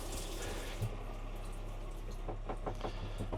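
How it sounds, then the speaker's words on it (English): Water running from a tap in a Sprinter camper van fitted with an LPG system gives a steady hissing, gurgling flow, with a few faint sputters toward the end. "That was the water running out"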